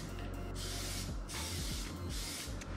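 Plasti Dip rubber coating sprayed from an aerosol can onto a Ford GT car wheel, three hissing bursts about a second each with short pauses, close and clear.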